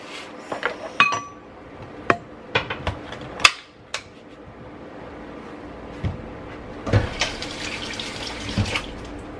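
Water splashes into a kitchen sink in short bursts among clinks of dishes and glass while vegan summer dishes with tofu and cherry tomatoes are prepared, fairly close and with no talk over it.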